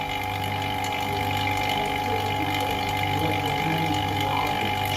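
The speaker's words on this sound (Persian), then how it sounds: "صدای وکیوم رو نها کنید." A vacuum device runs with a finger lifted off its tube, giving a steady, loud, continuous gurgling hiss with no breaks and no speech.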